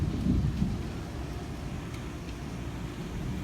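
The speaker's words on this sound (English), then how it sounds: "Heavy rain and thunder outside right now." Heavy rain pours steadily outside during a thunderstorm in Oviedo, Florida, with thunder rumbling low and continuous under the hiss of the downpour.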